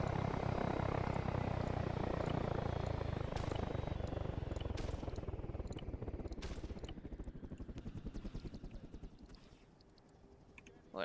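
Engine of a vehicle in the game Arma 3 running with a loud droning, rotor-like throb that slowly fades over about eleven seconds, with a few clicks and taps along the way.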